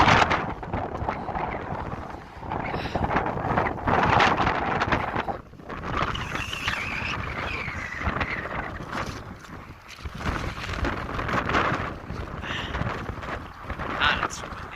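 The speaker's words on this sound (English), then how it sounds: "It's windy." Gusty wind buffets the microphone on a bridge at a borderline in cold weather, a loud continuous rumbling roar that rises and falls in waves.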